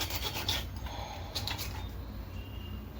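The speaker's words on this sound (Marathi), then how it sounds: "हे बघा अशा प्रकारे आपण हा साफ केला आहे मासा" A knife scrapes and cleans a freshwater fish in repeated close, rough rasping strokes that ease off toward the end, with no talking.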